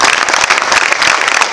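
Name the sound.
audience applause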